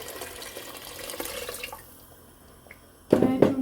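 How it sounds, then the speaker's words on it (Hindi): Water poured into a pressure cooker holding chana daal for a dhaba-style curry, a steady trickling stream that fades, then a louder splashing burst near the end. "मैं चूँकि प्रेशर कुकर में बना रही हूँ तो इसलिए मैं पानी इतना ज़्यादा नहीं डाल रही"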